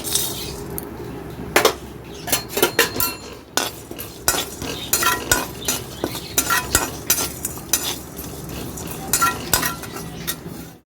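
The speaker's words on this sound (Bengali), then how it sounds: "একটু শুকনো কড়াইয়ে ভেজে নেব হয়ে গেছে কড়াটা গরম হয়ে গেছে এবার মশলাটা দিয়ে দিচ্ছি" Dry spices rattle and scrape as they are dry-roasted and stirred in a hot wok, with steady irregular clinks of a utensil against metal and no talk.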